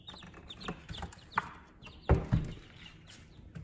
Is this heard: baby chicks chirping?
yes